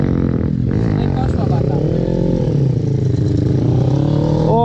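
A dirt bike engine with its exhaust lost roars and revs raw and unmuffled, rising and falling in pitch, while someone talks over it.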